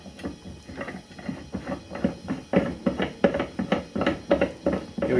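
A punch holder is turned down the fine thread of a bullet swaging press, giving a steady run of close metallic clicks and taps in an even rhythm, without speech.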